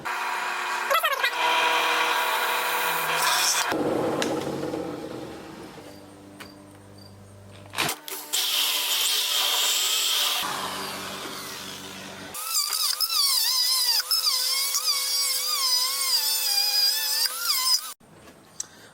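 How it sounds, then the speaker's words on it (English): A drill press whines and grinds in several bursts of different pitch, boring a hole in plastic with high, screeching tones and abrupt stops between runs. "we're going to cut a hole through with my drill press."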